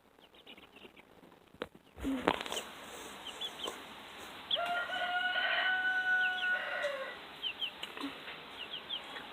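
Chickens in a chicken tractor on a family farm cluck and murmur close by, while a rooster lets out a long, loud crow midway, with scattered clucks continuing after it.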